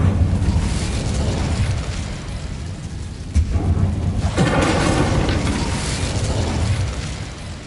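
A fire spell bursts out in Hogwarts Legacy inside a closed, tomb-like mine, a loud roaring, rumbling whoosh that runs steadily through the whole stretch with a brief dip partway before surging again.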